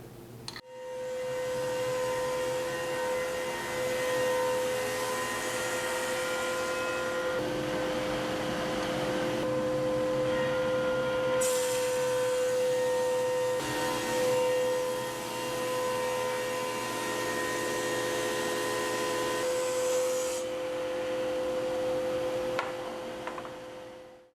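Laguna PX20 twenty-inch planer with a helical cutterhead planing white oak, a steady loud whine with tonal hum running continuously for over twenty seconds, shifting slightly as the board feeds through.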